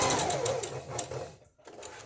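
A sewing machine stitches fabric with a rapid, steady mechanical whir near the mic, slowing briefly and pausing before starting up again, with no talking.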